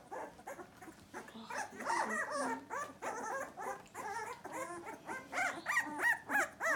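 Several female puppies whimper, yip and bark in a rapid overlapping chorus of high, wavering cries, close by and growing louder toward the end.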